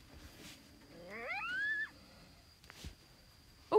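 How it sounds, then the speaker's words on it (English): A lion's roar in the video game Ultimate Fox Simulator 2, a single moderately faint growling call lasting about a second, heard alone over quiet game ambience with a couple of brief knocks afterward. "That's a lion's roar I'm hearing."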